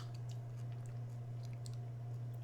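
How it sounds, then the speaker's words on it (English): Mouth chewing on chunks of dry lemongrass and chamomile tea, a steady close crunching and squishing mastication over a constant low hum, with no talking. "So basically I'm just like eating chunks of lemongrass and chamomile."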